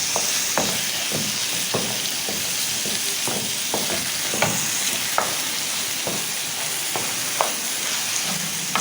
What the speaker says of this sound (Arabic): هنزل بالفراخ بتاعتي دي، هفضل اقلب فيها كده لحد ما تتشوح